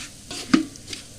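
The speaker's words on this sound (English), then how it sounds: "This is the sound of the rice when it is crispy" Rice crisping in a pan for Turkish rice with chicken, heard as a few brief, quiet scraping crackles and one sharp clink, with no talking.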